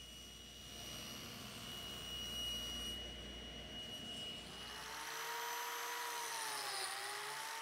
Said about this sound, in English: now we cut the stock to the exact dimensions we need for the case of our CD cabinet